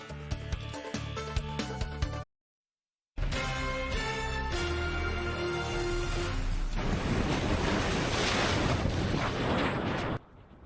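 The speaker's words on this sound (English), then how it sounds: "You can see the waves crashing up onto the sidewalk." Winter-storm surf at high tide in North Wildwood on the Jersey Shore, a loud continuous roar of crashing waves broken by a brief gap, with a dense noisy wash building toward the end.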